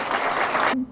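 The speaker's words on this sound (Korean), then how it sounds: "다시 한번 큰 박수 부탁드립니다" Audience applause at a political campaign rally for a lawmaker, a dense burst of clapping close by that fades out abruptly within about a second.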